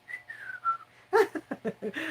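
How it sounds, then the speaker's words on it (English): Someone whistles a short rising-and-falling tune, close and fairly soft, followed by a quick run of sharp clicks or claps. "whistling"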